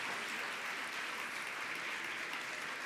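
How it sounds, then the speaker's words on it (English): A hall audience applauds the 2015 champions at an annual alumni luncheon, a dense, steady wash of clapping from many hands that holds at an even level throughout, with no voices rising above it. "please stand so you can all receive a well-deserved round of applause"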